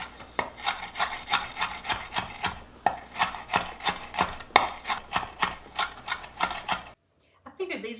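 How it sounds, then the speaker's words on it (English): A knife chops green onion on a cutting board in quick, even strokes, about two to three crisp taps per second, close and distinct, stopping abruptly near the end. "I think I want to add some green onion. I want to chop it up really good."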